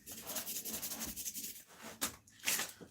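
A knife blade is hand-sanded with 800 grit abrasive, producing quick rhythmic back-and-forth rubbing strokes, close and fairly quiet, with a couple of sharper scrapes toward the end.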